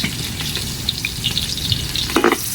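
Onion and garlic sautéing in a pan for chicken adobo, a dense close sizzle with light crackles and a few clinks from stirring.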